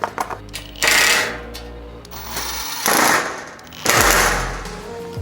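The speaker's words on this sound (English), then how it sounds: "I'm going to use power tools to install whatever I can" A power tool driving screws while assembling a Weber Genesis E-335 gas grill whirs in three bursts of a second or so each, with a low motor hum and rattling between runs, close by.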